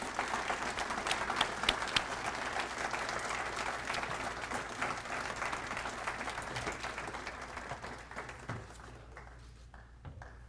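Sustained applause from an audience at a university alumni awards ceremony as recipient Otis Phillips is welcomed, steady dense clapping that fills the room and thins out toward the end.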